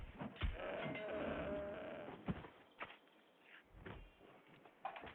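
A goat bleats in the New World video game, a few wavering animal cries among quiet game sounds and thuds, faint overall with a longer bleat near the start.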